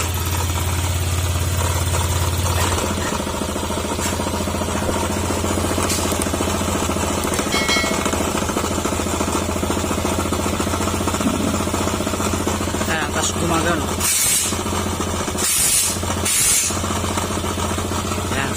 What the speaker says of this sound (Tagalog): pakinggan nyo yung tulog ng motor niya